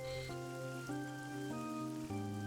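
Rain patters softly in the video game AI: The Somnium Files, a faint, steady wash beneath a sustained musical score whose chords shift every half second or so; no voices.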